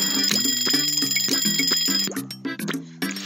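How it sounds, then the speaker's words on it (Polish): Doorbell in the Papa's Scooperia video game, a bright bell-like chime ringing in repeated quick strikes, loud and close, with no talk over it. "Zadzwonił, ale dzwonek do drzwi."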